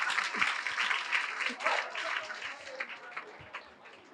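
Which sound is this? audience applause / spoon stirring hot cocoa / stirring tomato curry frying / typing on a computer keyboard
audience applause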